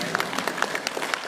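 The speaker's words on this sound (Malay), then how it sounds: "Mari beri tepuk tangan untuk diri sendiri." A church congregation at a Mandarin worship service claps in a short, brisk burst of applause, many hands together with individual claps popping out.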